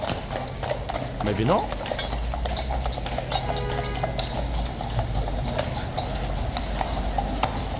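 A horse at the Horse Guards box in London stamps and shifts its hooves, sharp clip-clop knocks on hard ground close by, with someone speaking briefly and crowd noise around.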